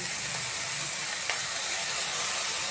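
Greens and tomato frying in a pan for baby corn pulao, giving a steady broadband sizzle and hiss with one brief tap or clink partway through, alone and without talk.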